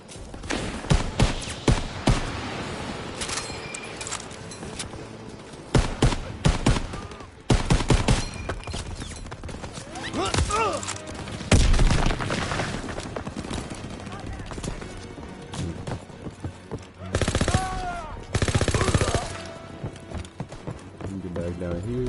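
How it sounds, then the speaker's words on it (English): Artillery shelling and gunfire pound a beach in the Call of Duty WW2 campaign, a dense, loud stretch of booming blasts and crackling shots that runs throughout while a player talks over it. "They're shelling that beach."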